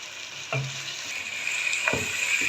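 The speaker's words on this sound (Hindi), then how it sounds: "ये देखिए क्रीम डाल के मैं इसको मज़ीद 2 से 3 मिनट भूनूँगी।" Beef white korma with cream sizzles steadily in a pan, a bright continuous frying hiss with two soft stirring scrapes, no voices.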